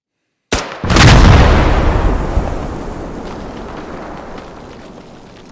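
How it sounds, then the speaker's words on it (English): A Bangerite IED detonates in the military shooter Squad: a sudden loud blast with a heavy boom that rolls into a long, slowly fading rumble. "They also receive a new explosive called a Bangerite IED, which must be shot in order to blow up."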